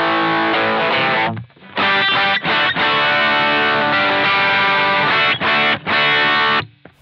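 Electric guitar played through a Valeton Dapper Mini pedal with overdrive at maximum gain, loud saturated sustained chords broken by a few brief stops, no talking.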